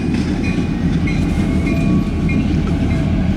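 CN freight train L520 rolls past close by at Battle Creek, Michigan, with a loud, continuous rumble of rail cars and faint metallic squeals above it.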